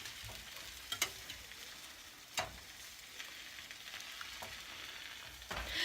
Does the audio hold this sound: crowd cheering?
no